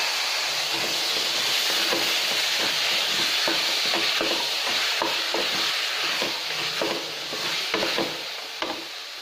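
Boiled chickpeas sautéing in a pan with chili powder and coriander powder, giving a continuous loud sizzle and hiss punctuated by regular scraping strokes of a spoon across the pan, with no talking.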